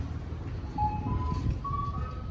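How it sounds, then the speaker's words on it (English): An ice cream truck plays Greensleeves from down the street, a thin distant chime melody in sustained tones over a steady low rumble of traffic and outdoor noise. "we have the only neighborhood where the ice cream man plays green sleeves"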